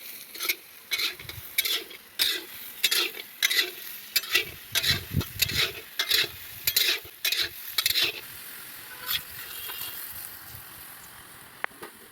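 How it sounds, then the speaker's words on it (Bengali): Raw jackfruit and potatoes with turmeric frying in an iron wok in a village kitchen, with a steady sizzle broken by repeated bursts of stirring and scraping strokes, close and fairly loud, then a quieter sizzle near the end. "আমরা আলুগুলো এর মধ্যে দিয়ে ভাজবো।"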